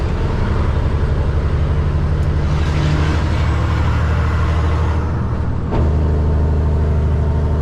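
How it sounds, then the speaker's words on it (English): A 25-year-old manual truck descending a steep downhill grade in 8th gear with its jake brakes on, giving a loud, steady engine drone and rumble from inside the cab that briefly dips before resuming. "We turn our jakes on, make sure they're on and working before we get down the hill."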